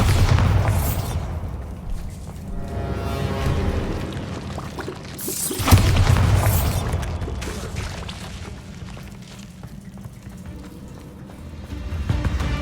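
A Bombarda spell goes off in Hogwarts Legacy with two heavy booming blasts, one near the start and one midway, over a dense, continuous game soundscape.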